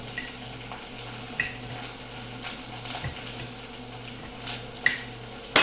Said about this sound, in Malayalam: അപ്പൊ നമ്മളെ സവാള അങ്ങനെ ഇളകിക്കൊണ്ടിരിക്കുകയാണ്